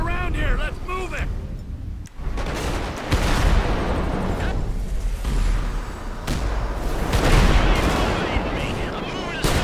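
Gunfire from shooters along a train track in Grand Theft Auto V, loud bursts of shots mixed with rumbling action noise throughout, with voices talking over it.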